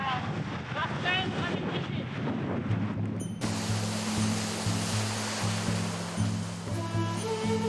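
Rough Indian Ocean surf breaking along the Sri Lanka shore, a steady loud wash of waves with heavy wind buffeting the microphone throughout, and low engine-like rumble in the second half.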